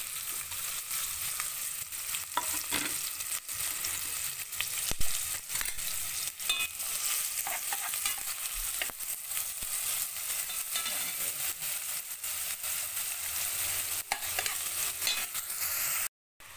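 Onions fry in a pan as the base for a simple spaghetti, giving a steady, close, bright sizzle with scattered crackles and occasional stirring scrapes, with no talking.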